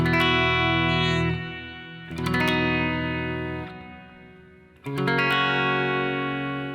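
A distorted electric guitar plays a chord sequence, each chord strummed and left ringing with a fading sustain before the next, loud and full with effects, no talking.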